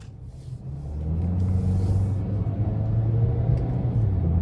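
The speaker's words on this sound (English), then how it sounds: "let's go ahead and take this 2026 Ford Maverick Lobo out on the road for a test drive" A 2026 Ford Maverick Lobo pickup drives on the road, its engine a steady low rumble heard from inside the cabin as it builds slightly and then holds, with no talking.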